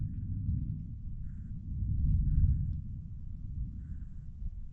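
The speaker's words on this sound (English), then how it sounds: "it's thundering over there too" Low, distant thunder from a large storm rumbles steadily for a few seconds, swelling briefly near the middle and then settling into a soft, continuous roll with no voices over it.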